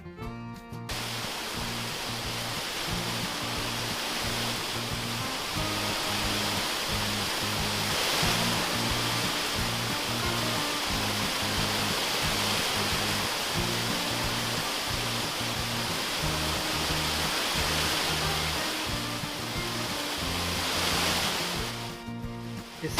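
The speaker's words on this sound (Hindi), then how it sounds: "अमिताभ बच्चन वाटरफॉल और कंचनजंगा वाटरफॉल बहुत ही मशहूर है।" A waterfall in North Sikkim, on the mountain road from Gangtok toward Lachen, gives a loud, continuous rushing roar of falling water that holds steady throughout, with a rhythmic musical bed underneath.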